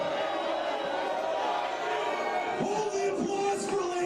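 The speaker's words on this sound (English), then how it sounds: "Hold the applause for later." A wrestling crowd at a CZW Dark City event keeps up a steady roar of cheering and shouting, with chanting voices rising near the end, while someone talks over the noise.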